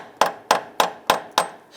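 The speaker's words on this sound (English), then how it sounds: "We're going to try and tap this out using a pry bar and our hammer." Five sharp, evenly spaced metallic taps of a hammer striking a pry bar to work loose a water pump on a 1994-2004 Ford Mustang 3.8L V6, close and ringing briefly after each blow.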